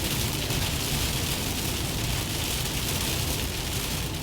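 Heavy rain falling on a car, a dense continuous hiss and patter covering everything evenly, steady and moderately loud with no breaks or voices.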